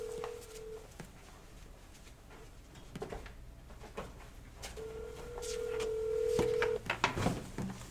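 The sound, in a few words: telephone call ringing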